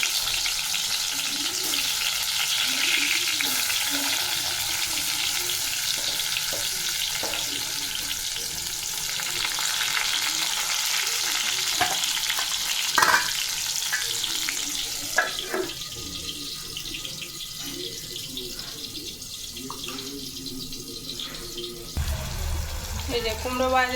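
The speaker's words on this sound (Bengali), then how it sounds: "এই যে পটলটা ভেজে নিচ্ছি।" Sliced pointed gourd (potol) fries in a pan, a continuous sizzle and crackle with occasional stirring clatters and brief knocks, close and steady throughout, with a short burst of running tap water toward the end.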